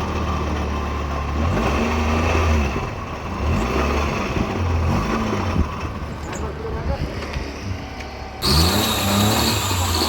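A freshly washed car pulls away, its mid-pitched engine revving and rising in several surges with a sharper burst near the end, close and fairly loud, with voices faintly underneath.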